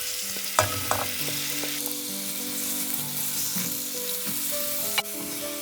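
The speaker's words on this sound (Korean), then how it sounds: "이제 냄비에 올리브유를 두르고 아까 썰어둔 양파를 볶아주세요." Chopped onions stir-frying in olive oil in a pot for a vegan spinach and sweet potato soup, a steady close sizzle with a few sharp stirring knocks throughout.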